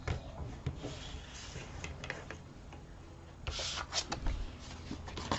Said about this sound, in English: You can put it in your trimmer, and let's just cut it down.